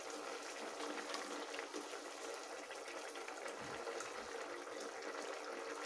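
Vegetables, including beans and carrots, simmer in an opened pressure cooker with a soft, continuous bubbling hiss. The sound is faint and steady, with no voices.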